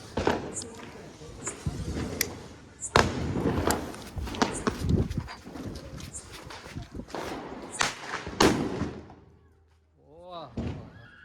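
A putli bomb firecracker goes off in a quiet residential street on Diwali night, a sharp loud bang among scattered cracks and thumps while people talk and laugh nearby.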